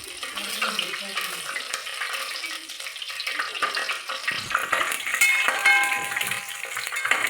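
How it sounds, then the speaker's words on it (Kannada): Spices fry in oil in a pan for a hotel-style tomato bath, producing a continuous bright crackling sizzle with stirring scrapes and a voice speaking briefly over it. "ಒಂದು ಬಾಣಲಿಗೆ ಎಣ್ಣೆ ಹಾಕಿ ಮಸಾಲೆ ಐಟಮ್ಸ್ ಹಾಕ್ಕೋಬೇಕು"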